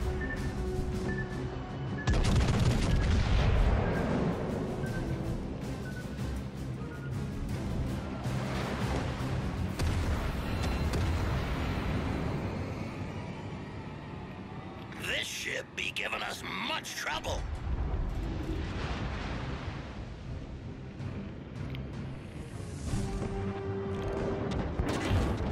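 Heavy naval guns from the Scharnhorst boom in World of Warships Legends, a dense run of loud blasts early on and scattered later shots, all under continuous game music and effects with a voice talking over them.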